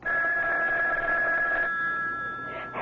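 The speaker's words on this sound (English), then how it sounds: "Oh, that's the phone, Parker." A telephone rings loudly and continuously in an old-time radio mystery drama, a steady electric bell tone sounding alone for about three seconds.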